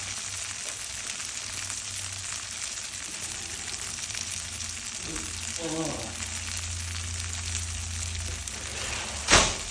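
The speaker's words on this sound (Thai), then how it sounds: "ผัดไปทอดให้เหลือง กรอบหอมๆนะวันนี้" Tofu and bean sprouts stir-frying in a home kitchen pan, giving a steady broadband sizzle throughout, with a brief voice-like murmur midway and a sharp clatter near the end.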